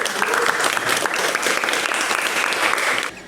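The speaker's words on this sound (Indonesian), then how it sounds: "Beri aplaus dulu untuk kita semua." Classroom audience in an Indonesian vocational lesson on manual transmission repair claps together in a dense, steady burst of applause that carries evenly for about three seconds, then stops abruptly.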